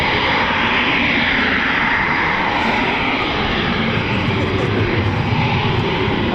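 A Eurofighter Typhoon FGR4 takes off with its two EJ200 engines on reheat at an air show, producing a loud, steady, close jet roar that fills the whole stretch without letup.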